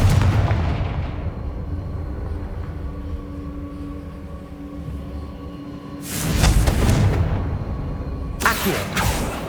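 Confringo blasting spells in the Hogwarts Legacy video game: a rumbling boom fades out, then two sharp explosive bursts follow with heavy low thuds and crackling debris, loud and close.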